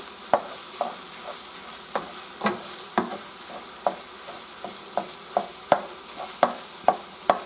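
Sausage browning in a pan for gravy, a soft steady sizzle broken by a regular series of sharp spatula scrapes and taps as the meat is stirred, with no voices.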